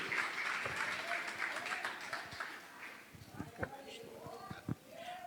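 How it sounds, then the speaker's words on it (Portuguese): A church congregation applauds in a broad wash of clapping that fades partway through, with voices and scattered exclamations rising over it toward the end. "E uma salva de palmas, por favor."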